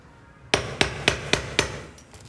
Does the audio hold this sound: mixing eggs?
no